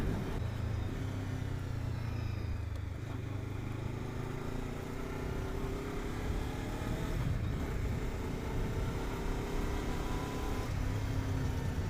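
A motorcycle rides along a road, its steady engine drone and wind rush holding constant and fairly loud throughout, with no talk.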